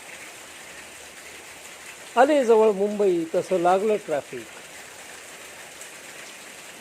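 Steady rain hiss during a ride in heavy rain toward Mumbai traffic, with rider in raincoat and helmet and water spray thrown up by trucks; someone talks briefly over the constant wash.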